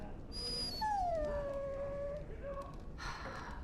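A dog whimpers close by, a long falling whine followed by a shorter cry, fairly quiet against a low background hum.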